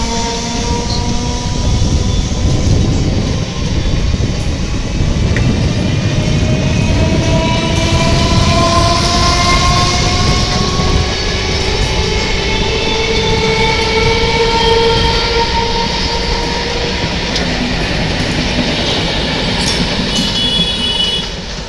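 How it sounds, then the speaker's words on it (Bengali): A Naihati–Bandel local train of Indian Railways' Eastern Railway pulls into Bandel Junction station. Its loud, steady rumble fills the whole stretch, with drawn-out wheel squeals and a faint horn on top of the rolling noise. "37533 আপ নৈহাটি ব্যান্ডেল লোকাল হুগলি ঘাট রেল স্টেশন ছেড়ে অন্তিম বা শেষ রেল স্টেশন ব্যান্ডেলে প্রবেশ করছে"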